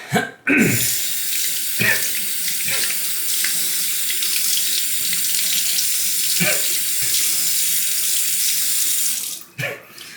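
Water from a running tap pours steadily onto a Canadian novaculite honing stone while a straight razor is being honed. The stream is close and loud, keeps a constant hiss and splash for several seconds, and stops abruptly near the end.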